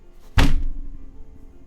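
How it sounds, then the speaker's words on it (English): A single heavy thud lands sharply and loudly, then a short muffled rumble trails off, with no voices. "another big thud."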